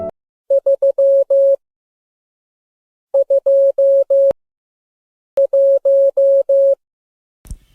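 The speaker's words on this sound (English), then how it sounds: "Morse Code, Beeps in the Second World War by Vanessa Macias." Morse code beeps of the kind used in the Second World War sound in three short bursts of clean, steady tones, mixing short and long pulses, with silent gaps between the groups.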